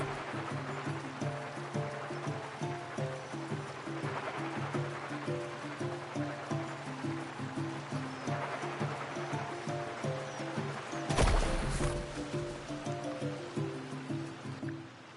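Waves splash and rush steadily as a character carves through water in Genshin Impact, with a louder splashing surge near the end, all under a looping musical background.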